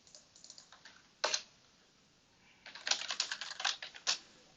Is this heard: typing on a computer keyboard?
yes